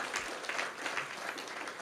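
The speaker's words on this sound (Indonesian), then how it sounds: "Tuhan ingin kita beri tepuk tangan buat Tuhan Yesus" A church congregation applauds for Jesus during a Sunday sermon, with a steady, even wash of many hands clapping together, moderately faint and filling the hall without a break.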